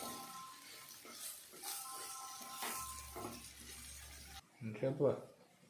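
A spoon stirs prawn curry in a pot with scraping and bubbling sounds that come and go. A voice talks over part of it.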